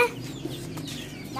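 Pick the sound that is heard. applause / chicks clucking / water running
chicks clucking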